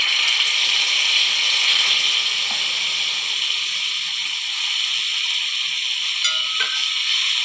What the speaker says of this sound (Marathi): तव्यावर थोडं तूप गरम करून घेऊया। थोडी पावभाजी घालूया।